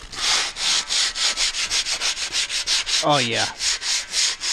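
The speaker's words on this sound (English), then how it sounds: "See how this rougher sandpaper does, like on these pits and stuff," Rough sandpaper rubbing rusty, pitted, scaly metal on an old header cart, a steady back-and-forth scraping rhythm close up with a brief spoken interjection partway through.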